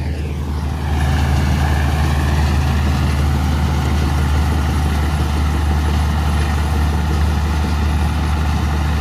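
A straw-making (toori) machine runs on its engine at a farm, giving a loud, steady low-pitched drone with a constant mechanical hum from start to finish, with no talk.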